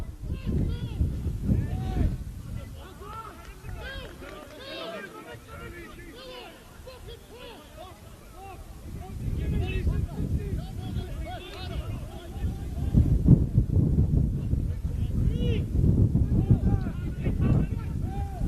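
Steady wind buffets and roars across the microphone at a night soccer match, Werribee City FC v Preston Lions FC, rising and falling over a crowd-like background, with a commentator talking over it.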